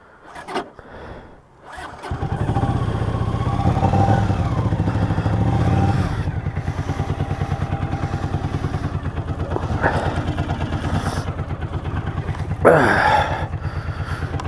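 A Honda Silverwing motorcycle engine starts with a short crank, then settles into a steady, close idle that runs on, with a couple of brief revs and a clunk near the end; a voice speaks briefly at the start.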